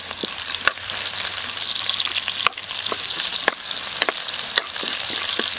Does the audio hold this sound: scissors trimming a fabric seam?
no